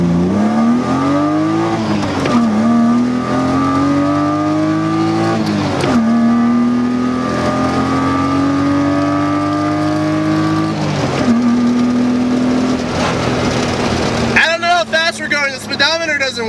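A BMW E36 M3 pulls hard through the gears on a ring road, its engine rising in pitch, dropping at each shift and climbing again, loud and close from inside the car, and ending in a rough sputter near the end.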